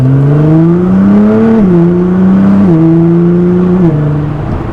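A Nissan GT-R accelerates in automatic normal mode, heard from inside as a loud, steady engine drone that climbs in pitch, drops briefly at each gear change, then climbs again across several shifts.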